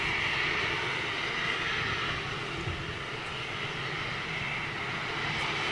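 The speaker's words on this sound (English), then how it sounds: "I'd imagine you are probably, Thomas, talking about the Lufty 320 just went out." A jet airliner, likely an Airbus A320, roars as it departs from an airport seen from a home, a loud continuous engine rumble and hiss that holds steady throughout with no talk.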